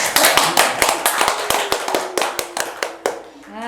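Applause from a small studio audience at a podcast recording: a short run of sharp, scattered hand claps, fairly close and moderately loud, thinning out toward the end.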